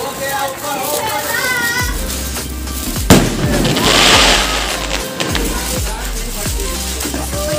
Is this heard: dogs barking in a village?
no